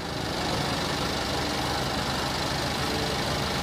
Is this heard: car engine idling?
yes